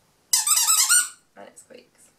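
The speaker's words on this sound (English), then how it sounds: "it lights up and it squeaks" A light-up sensory ball toy gives one loud, bright squeak lasting most of a second, close by, followed by a few quieter, shorter squeaks.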